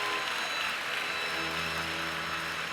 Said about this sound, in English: Please give a round of applause for the Department of Curriculum and Pedagogy graduates.